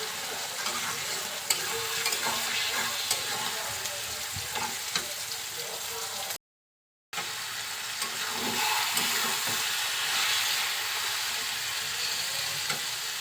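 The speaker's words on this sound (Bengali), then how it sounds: "এখন ভালোভাবে এপিট ওপিট করে নেড়ে চেড়ে নিতে হবে ঝোলটা শুকানো পর্যন্ত।" Shredded cabbage stir-fry sizzles in a pan while it is stirred and turned, with irregular scraping clicks over a constant frying hiss. One brief gap of silence breaks the sound partway through, and nobody speaks.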